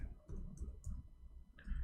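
Soft, quick clicks of keys being typed on a keyboard, a few irregular taps close by over a low background hum.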